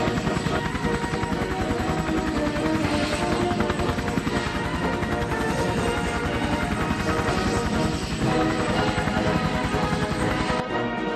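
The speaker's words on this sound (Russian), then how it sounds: "Вертолеты." Dense, continuous roar of aircraft overhead, steady and loud throughout with rumbling low end, consistent with helicopters passing above.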